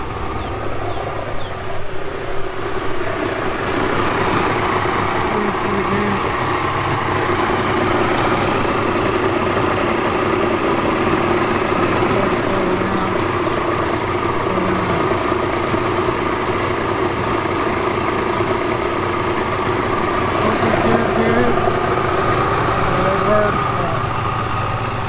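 A steady, low Mercury Thunderbolt 850 85hp outboard boat motor idles without a break throughout, with faint voices murmuring in the background.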